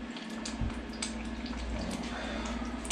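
Soft plastic stick bait melts in heated liquid plastic, with small air bubbles popping and crackling faintly over a steady low hum, close by and with no voices.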